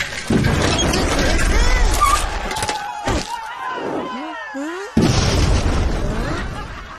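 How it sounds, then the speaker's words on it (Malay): Bamboo cannon firing outdoors during a cartoon village scene, a sharp boom bursting in near the start and again later, with whistling, swooping effects and children's voices around it. "Ada meriam buluh."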